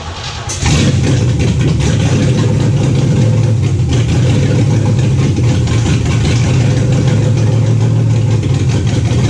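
A Chevrolet El Camino engine catches after a brief crank and settles into a loud, steady, rough running idle close by, with no talk over it.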